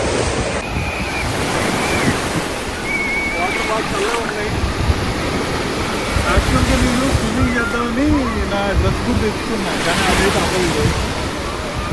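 Surf crashes and rolls steadily with gusty wind buffeting the microphone, while people's voices and calls come through over the noise of the waves on a crowded beach at Rostock, Germany.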